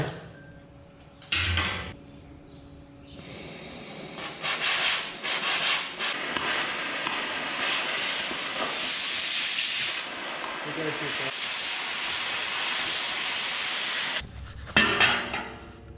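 A cutting torch slices through metal on a dairy farm with a loud, continuous roaring hiss that runs for most of the clip, starting and stopping abruptly, close by, with brief sounds before and after.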